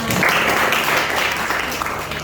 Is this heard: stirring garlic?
no